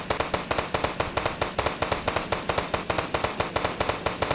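Video game Indian Bike Driving 3D, gas cylinders blasting in a fast regular string of sharp cracking explosions, about three per second, steady and moderately loud throughout.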